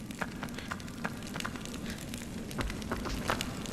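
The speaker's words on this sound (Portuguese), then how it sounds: "Também tem o som do fogo, algo ignorado em vários jogos." In the video game ICO, a fire crackles and pops steadily with irregular sharp snaps over a continuous hiss, heard close with no talking.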